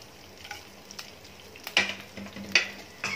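Bay leaf, cinnamon, kalpasi, cloves and fennel seeds fry lightly in prawn oil for a prawn biryani, a soft close sizzle with a few sharp crackles and pops breaking through.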